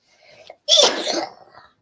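A single short, harsh cough bursts out from a small child, preceded by faint breathy fussing and trailing off into soft rasping breaths.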